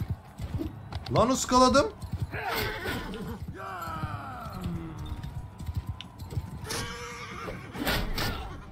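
Horses neigh and whinny during mounted combat in the video game Mount & Blade II: Bannerlord, several loud whinnies with some hoof clatter, while someone talks excitedly over them.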